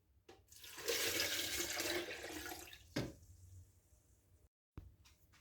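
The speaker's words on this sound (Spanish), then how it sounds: "Ahora le vamos a agregar 750 centímetros cúbicos de agua o el equivalente 3/4 de" Water, about three-quarters of a litre, pours into a food processor holding purple forest guava (arazá negro) for juice. A loud, rushing splash lasts about two seconds, then a thump and quieter settling sounds follow.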